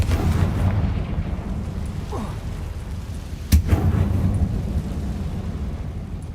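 A Confringo blasting spell in the Hogwarts Legacy video game bursts with a single sharp boom midway, set against a steady low rumble of game ambience.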